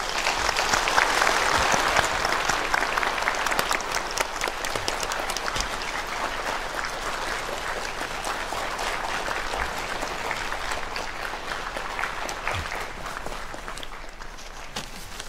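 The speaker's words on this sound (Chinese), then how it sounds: "那接下来就让我们用热烈的掌声有请外卖小哥李安全" An audience applauds on stage to welcome a food delivery man, a dense sustained clapping that stays loud and steady throughout, with no one speaking over it.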